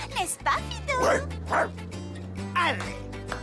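A dog in a French Gowap commercial yips, yaps and whimpers several times, fairly loud and near, over voices and a steady low background tone.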